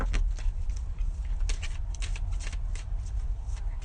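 Steady, close riffling and soft papery patter of oracle cards being shuffled by hand, continuous for a few seconds with no speech.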